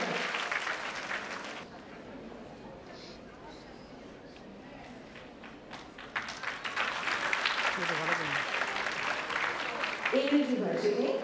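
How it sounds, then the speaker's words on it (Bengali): An audience at a college annual cultural and prize-giving ceremony applauds for the best teacher, a dense wash of clapping that fades in the middle and then swells louder again, with voices over it near the end. "অনেক জোরে করতালি তার জন্য।"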